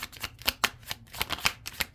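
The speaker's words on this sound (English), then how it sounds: "Actually, one more shuffle." A deck of tarot cards being shuffled by hand, a quick run of crisp papery riffles and slaps in an uneven rhythm, close and alone with no talking.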